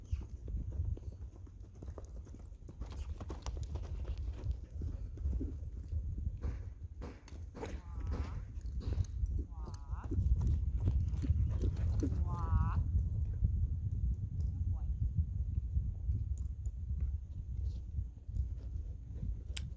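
Hooves of a horse loping on a lunge circle, a steady close rhythmic clip-clop over soft ground running throughout, with a few snorts and someone talking briefly.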